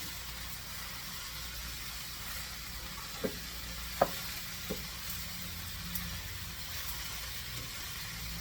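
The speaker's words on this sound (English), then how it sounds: "You still have it on this high flame, and you're just cooking it away, stirring it." Shrimp and greens frying over a high flame give a steady soft sizzle, broken by a few faint clicks and taps as the pan is stirred.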